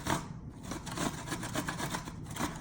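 Vegetables with their skins left on are rubbed against a grater for tuna salad, making a close, rhythmic scraping of repeated strokes with no voices.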